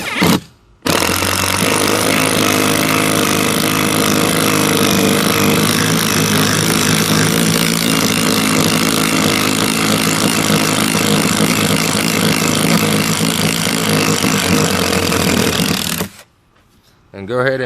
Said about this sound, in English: I'm going to attach this to my impact driver and drill out these holes.